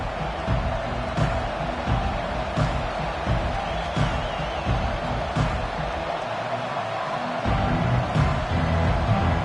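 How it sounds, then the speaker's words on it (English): Stadium crowd in the college football video game NCAA 25, a continuous roar of noise with occasional thumps and cheers, steady and moderately loud without commentary. "This crowd trying to show them what it's going to be like all day in this house."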